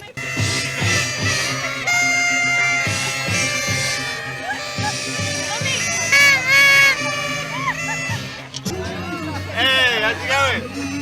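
A group of people, children's voices among them, cheer and shout to welcome a cyclist named Craig as he rides in, a lively burst of overlapping whoops and calls.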